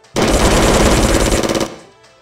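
Rapid toy blaster fire bursts out loud and continuous for about a second and a half during a plush toy battle, then cuts off and fades away.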